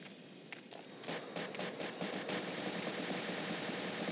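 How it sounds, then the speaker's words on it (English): Rapid gunfire crackles in the online block-building shooter game Ace of Spades, bursts of shots rising into a steady, dense clatter over a constant background wash. "There's a lot of gunfire."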